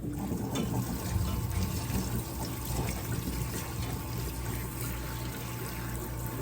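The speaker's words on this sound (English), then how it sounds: "I rinsed them one more time because we want to make sure that they are clean" Cherry tomatoes being rinsed under running water, a steady close splashing and pouring stream that continues without a break, no voices.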